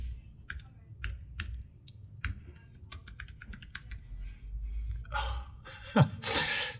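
Keys on a computer keyboard are tapped close up in irregular bursts of crisp clicks, with a breath and rustle near the end.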